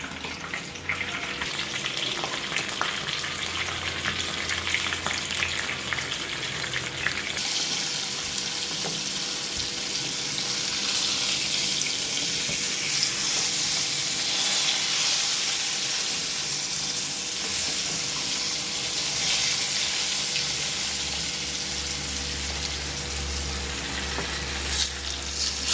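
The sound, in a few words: banana leaf fish fry sizzling in the pan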